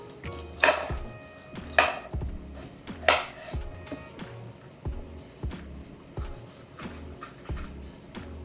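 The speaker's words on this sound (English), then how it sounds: "I'll be cutting this up into pieces, removing all of the seeds, and cutting this into small pieces" A knife chopping winter squash into small pieces on a cutting board, a series of close, uneven thuds and crisp cuts with short pauses between strokes, no voices.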